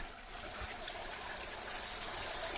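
Water from a stream runs steadily along the roadside near a temple after light rains, a soft continuous trickling and gurgling wash heard up close without any voices.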